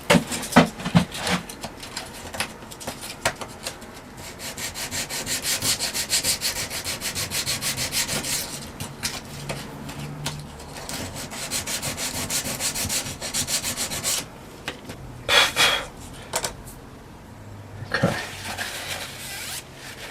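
Hedge trimmer parts being roughened by hand, a steady scratchy rubbing and sanding that runs nearly the whole time in uneven strokes, close and fairly loud, with short louder scrapes near the end and no talking.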